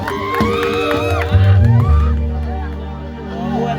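A lively crowd cheers and whoops at a live Gujarati folk performance in Rampura, Palanpur, with a rowdy burst of shouting swelling near the middle over a steady musical drone, then settling into a continuous din.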